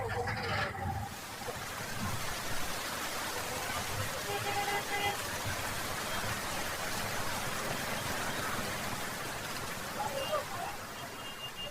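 Steady rain falls as a dense, even hiss that holds throughout, with faint speech underneath it.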